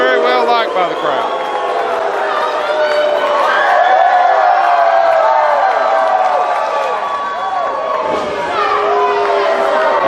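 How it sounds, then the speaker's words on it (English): A wrestling crowd gives an ovation at an AIWF event, a broad wash of cheering and chatter that runs continuously beneath a commentator's loud talk. "Amber O'Neal gets a nice ovation"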